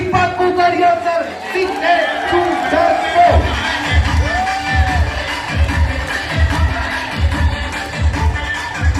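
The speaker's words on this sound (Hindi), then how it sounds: "जोरदार तालियों से स्वागत करें मेरे दोस्तों" A large audience cheers and applauds to welcome a speaker, with loud crowd whoops, shouting and heavy rhythmic thumping throughout, as an announcer's voice and crowd chatter carry over the din.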